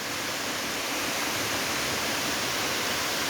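Ratna Ella waterfall roars as a steady, loud, unbroken rush of falling water heard close at hand, with no voices.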